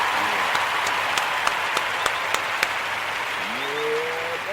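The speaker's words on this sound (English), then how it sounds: "I want to give all the Ujima babies a round of applause" Applause from an audience at a daily gathering, a steady broadband wash of clapping with a few sharper individual claps standing out, moderately loud and continuous throughout, with a brief tonal sound rising near the end.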